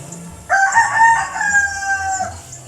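A single loud rooster crow rings out nearby, a long drawn-out call over faint background noise.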